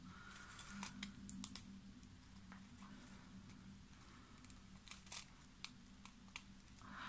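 Scissors cutting plastic around paper circles for a scrapbooking craft, quiet scattered snips and small crinkles over a low background hum.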